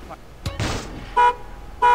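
Car horn from an alarm mod in GTA San Andreas gives two short, loud toots about half a second apart, following a brief burst of other game noise.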